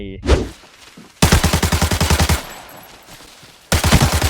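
Rapid automatic gunfire in the shooter game Arena Breakout, two loud sustained bursts separated by a quieter pause, with another burst starting at the end.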